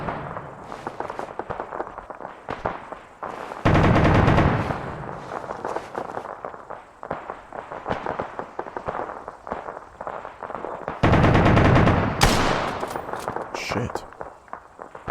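Gunfire in the Arma 3 video game on the Chernarus map, with two loud, close bursts standing out from scattered shots and steady battle ambience, while someone talks between them.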